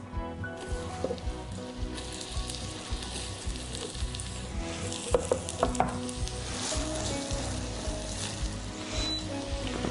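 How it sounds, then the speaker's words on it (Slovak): Shallots are dropped into hot melted butter in a pan, giving a steady close sizzle and frying crackle with a few soft stirring scrapes, no voices. "Do rozpáleného masla si pridáme šalotku."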